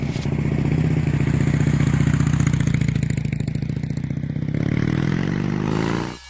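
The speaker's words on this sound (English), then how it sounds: "It was common to see motorcyclists cruising down highways, their long hair flowing, with no concern for head injuries." A motorcycle engine rumbles loud and steady as the bike cruises along a highway, holding an even drone before cutting off at the end.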